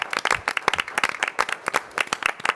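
A council meeting audience claps in a short burst of scattered, fairly close applause, with no talking over it.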